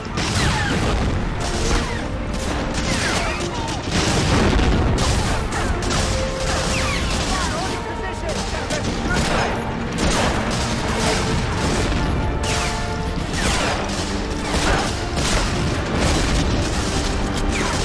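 Gunfire in the World War II shooter Medal of Honor Frontline keeps up without a break: dense bursts of rifle and machine-gun shots, booms and crashes, loud and continuous, with faint game voices.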